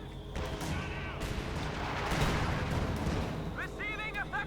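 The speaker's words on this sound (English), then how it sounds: "you stay up for another artillery strike" Artillery strike in Company of Heroes 2 rumbling as a dense, sustained barrage of booms and gunfire across a full battle mix, steady and loud throughout, with brief chirpy game effects near the end.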